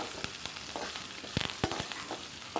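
Tomatoes sautéing in a pan for pirandai chutney, a soft steady sizzle with scattered clinks and stirring scrapes, fairly quiet and close, no voices.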